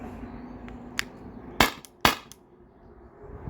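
A Salt Supply S2 gun running on an HPA tank fires aluminum and nylon balls in a quick mag dump: a few sharp, loud cracks, two of them strong, each followed by a short hiss, with no talking.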